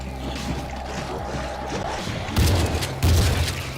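An explosion from a thrown bomb in the zombie shooter World War Z, two heavy booming bursts with low-end thumps arriving late, over a continuous rumble of game noise.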